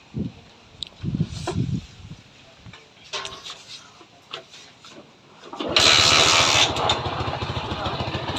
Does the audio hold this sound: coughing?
no